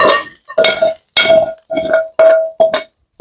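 Metal utensils scrape and clink against a pan as beef from a stir-fry with vegetables is pulled out, in about six loud, separate bursts with short gaps between them.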